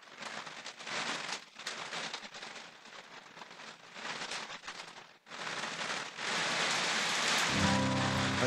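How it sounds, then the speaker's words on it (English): Heavy rain pounding on a studio roof, a dense, loud hiss that surges and eases in waves, briefly dipping before swelling into a steady roar near the end, with no voices. "And can you hear that rain?"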